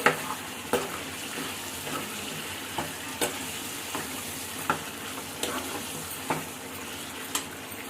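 Chicken dal fry simmers in a pan over a low flame, giving a steady soft sizzle with regular scraping stirs about once a second, close by and without talk.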